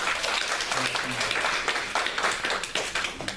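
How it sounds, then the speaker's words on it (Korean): A church congregation at Bansuk Church claps in thanks and encouragement, a moderate burst of many hands that thins into a few distinct, separate claps near the end. "우리 사명대에 감사와 격려의 박수 한번 해줬으면 감사합니다"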